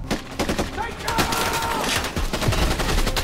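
Rapid bursts of automatic gunfire in a military action film scene, dense overlapping shots and impacts filling the whole stretch at high volume, with a voice speaking underneath.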